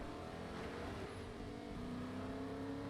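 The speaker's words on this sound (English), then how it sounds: "There's a car coming." A car engine in a video game hums and drones steadily at moderate volume, its pitch climbing slightly as the vehicle approaches, with no talking over it.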